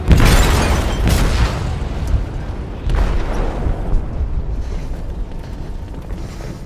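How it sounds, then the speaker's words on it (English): An explosive detonates in a ship's hold in Detroit: Become Human, a loud deep boom right at the start, then a second heavy blast and rumbling, creaking debris fading away. "They detonated an explosive in the hold."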